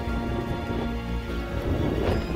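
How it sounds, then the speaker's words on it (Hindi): Steady rain pours outdoors as a dense, even hiss of drops with a low rumble underneath, continuous and fairly loud throughout. "बोला था ना बारिश होगी"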